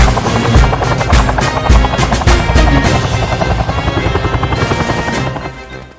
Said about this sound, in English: The UH-1J Huey is the improved Japanese variant of the Bell UH-1 helicopters operated by the Philippine Air Force.